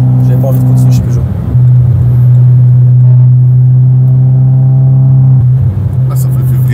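An Opel Corsa OPC Nürburgring Edition engine drones at a steady, loud, close rumble with slight shifts in pitch, and a person talks over it.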